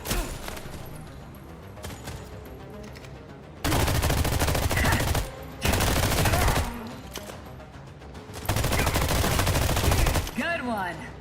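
Loud, sustained blasts of a rocket-loaded gun in the sci-fi shooter The Expanse, several long roaring volleys separated by brief quieter gaps with game background sound.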